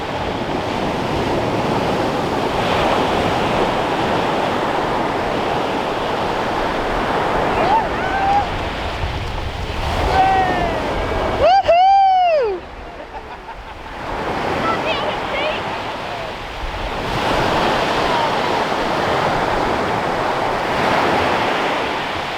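Surf rolls in and washes up the shore in repeated surges, with gusty wind buffeting the microphone and a brief bird-like call midway.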